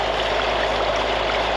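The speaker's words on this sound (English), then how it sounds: "When they flush the toilet, the water's not making it down the pipe, it's kind of splashing up in the air." Flushed toilet water surges and splashes up inside a blocked sewer manhole at a hospital. It sounds like a constant, loud rushing and gurgling, similar to a stream, with no speech.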